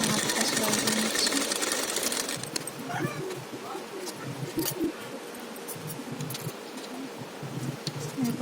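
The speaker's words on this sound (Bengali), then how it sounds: "আস্তার মেন ফেব্রিকের উপরে বসিয়ে চাপ সেলাই করে দিয়ে হাতাটা সেলাই করে নিচ্ছি।" Sewing machine running steadily as it stitches a blouse sleeve and its lining onto the main fabric for a double katori blouse; a dense, continuous mechanical whir, loudest in the opening seconds, then a softer steady hum.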